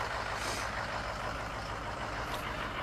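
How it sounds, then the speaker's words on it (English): A truck passing near a zoo, its low engine rumble and broad road noise filling the short stretch at steady moderate loudness. "There's a truck going past me here, so might be a little hard to hear for a moment."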